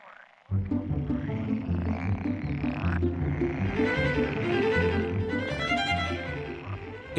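Male frogs and toads call at a spring breeding site in a raised bog, a dense chorus of overlapping croaks and trills that starts abruptly and continues steadily, with no talk.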